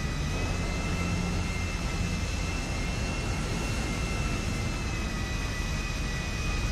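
Jet engine in the GTA 5 video game, a steady loud roar with a thin high whine held throughout, no voices.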